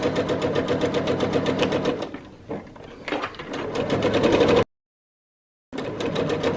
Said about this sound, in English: we're just going to sew a 1/4 inch again